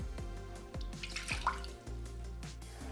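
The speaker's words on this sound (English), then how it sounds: "Add the water to your pot and set it to boil." Water running and dripping into a cooking pot being filled to boil for couscous, a series of separate plops and splashes roughly every half second with a brief fuller pour in the middle, close and fairly quiet.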